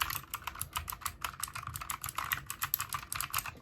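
Fast typing on a Deria GK61 60% mechanical keyboard, a close, crisp run of clicky keystrokes in an uneven rhythm, with no talking.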